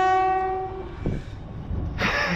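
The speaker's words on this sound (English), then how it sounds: "Ignore that train." Passing train in the West of Scotland countryside: a loud, sustained horn blast fades into a low rumble of rolling wagons, then a sharp hiss near the end, all fairly close.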